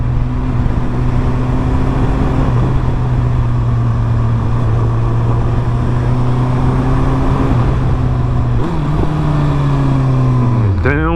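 A 2008 Suzuki Hayabusa motorcycle on a test ride after sitting for over a year, its engine droning steadily under loud wind rush, with pitch shifts as gears change near the end; a rider talks briefly over it.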